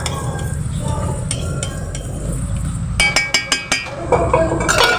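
Egg poured into bitter gourd frying in a pan, with a steady sizzle under a run of sharp utensil clinks and scrapes from quick stirring partway through, close and fairly loud.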